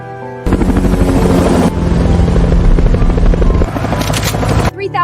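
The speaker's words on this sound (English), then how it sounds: "Choppers everywhere!" Loud, close helicopter rotors thump and whine continuously overhead, with a dense roar of blades and engine filling the whole stretch in a tense action scene.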